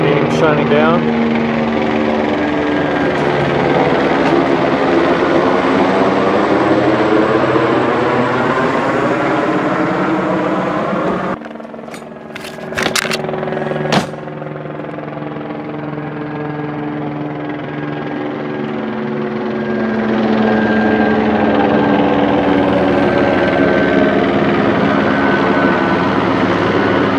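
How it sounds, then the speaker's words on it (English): Drone hovering overhead, a loud steady buzzing whine with layered harmonic tones that holds, cuts out briefly with a few clicks and noise, then returns at full strength. "There was a hovering drone right over here"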